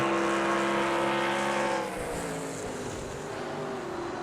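Race car engines in a racing video game with an Oldsmobile drafting a Ford at Watkins Glen, a loud sustained droning whine that drops in pitch and level partway through as the cars brake for a turn, no talk.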